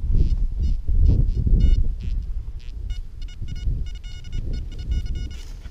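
A metal detector gives repeated short electronic signal tones in stuttering bursts while sweeping a field for coins, loud and close over low rumbling wind and handling noise.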